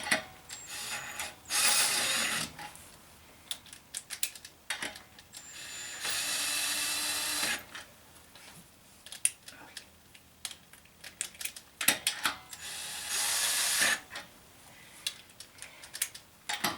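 Ratchet working on the rear brake bolts of a 2005 Cadillac DeVille, with quick bursts of clicking and whirring separated by quieter pauses. The sound is close and moderately loud, and no voice is heard.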